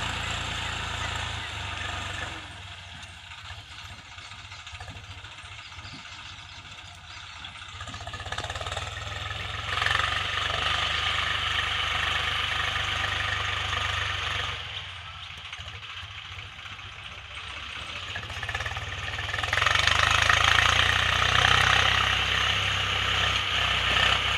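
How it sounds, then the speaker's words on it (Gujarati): A tractor ploughing a village field in the morning gives off a continuous engine drone that swells and eases over time, steady and mid-distance. "ખેતર ખેડવા વેલે ટ્રેક્ટરની જોડે રહેવું પડે"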